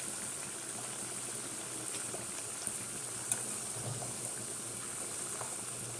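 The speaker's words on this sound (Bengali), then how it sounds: "তেলটাকে প্রথমে একদম গরম করে নিতে হবে, তারপরে এইভাবে ভাজতে হবে।" Food frying in hot oil on low heat, a steady close hiss and fine crackle that runs unbroken, with a few faint pops, no voices.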